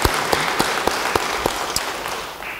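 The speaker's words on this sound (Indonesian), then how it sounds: "Beri tepuk tangan yang baik bagi dia." Applause from a church congregation during an Indonesian-language sermon: loud, dense clapping from many hands with a few sharper claps standing out, continuing steadily throughout.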